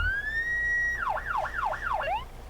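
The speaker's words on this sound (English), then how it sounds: "Even comes with a custom 90s siren." A custom 1990s-style police siren from a GTA San Andreas roleplay car pack, with a steady tone that rises and holds, then switches to a fast, loud, repeating wail, heard alone.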